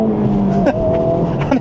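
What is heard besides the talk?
Honda Civic Type R FL5 engine revving on auto rev-match downshift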